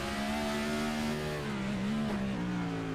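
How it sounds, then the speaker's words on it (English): A race car's engine in the iRacing game, an eNASCAR Coca-Cola Series car on the Chicago Street Course, drones loud and steady, its pitch wavering and dipping as the driver brakes hard off a fast straight. "You can hear just how much they have to get on the brake, how slow they have to go after these high-speed straights"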